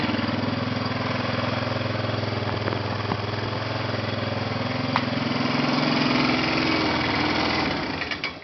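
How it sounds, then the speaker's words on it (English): An idling vehicle engine holds a steady, close-up drone while a small loose heat shield adds a light metallic rattle, before the engine note dips and fades near the end. "Rattle you hear is this little heat shield."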